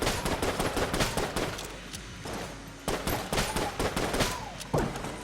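Rapid gunfire from the Eye of Beholster gun in the video game Enter the Gungeon, a dense run of sharp repeated shots with a short pause midway, fairly faint.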